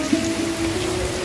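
Rain falls at night as a steady close wash of drops, even and unbroken over a short stretch, with a faint low hum underneath.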